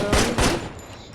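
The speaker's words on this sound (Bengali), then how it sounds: "গুলিটা দিয়েই মারি" Two loud gunshots ring out close together in the Gangster Vegas video game, followed by a quieter tail with faint ticking sounds.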